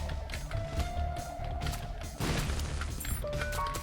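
Missile airstrikes going off in The Binding of Isaac Afterbirth+, a short run of muffled game explosions and thuds that swells into one heavier crash partway through, set against steady background game music.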